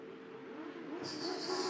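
Autograss race cars rumble at a dirt-track start line, engines droning and rising slightly as they roll forward, with no speech.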